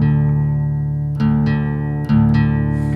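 Guitar string being tuned down to D, a sustained plucked note re-struck twice as its pitch settles lower, ringing alone with no talk.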